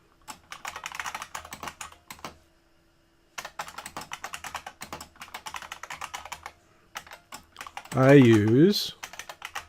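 An SQL injection string is typed on a computer keyboard in bursts of quick, close key clicks with short pauses, a brief spoken phrase mixed in, and a louder tonal sound near the end.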